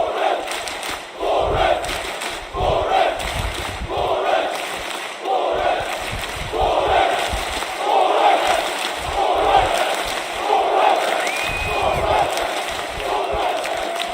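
An esports arena crowd on its feet roars and chants in loud, rhythmic surges after a clutch round involving Astralis, a dense wall of cheering with pulsing waves roughly every second throughout.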